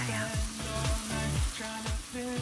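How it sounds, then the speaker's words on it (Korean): Finely chopped potato, onion, scallion and cabbage fry in a pan for homemade omurice, with a steady close sizzle and some stirring under melodic background music. "집에 있는 야채를 꺼내서 잘게 다진 후 볶아주세요."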